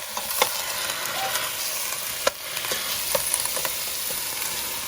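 Onions frying in a pan on the way to golden brown for a prawn and turnip curry, giving a constant close sizzle with scattered clicks and stirring scrapes, one sharper knock midway.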